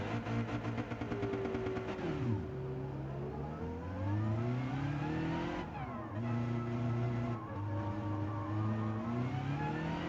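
A race car engine in the Gran Turismo 7 video game, running in a Manufacturers Cup race, revs hard and accelerates through gear changes. The tone swoops up and down steadily and loudly for the whole stretch, with no talk over it.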